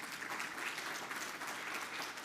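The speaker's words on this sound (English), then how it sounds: "A clap for the best." Faint, steady applause from an audience at a community talk on food accessibility and justice, a soft continuous patter of clapping lasting about two seconds.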